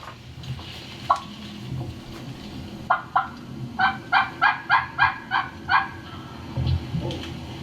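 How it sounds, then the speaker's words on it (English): A wild turkey gobbles in a rapid series of loud, rattling bursts in response to a call, with a few scattered calls before and softer sounds after, in an outdoor setting. "you hear the turkey jump on that first call"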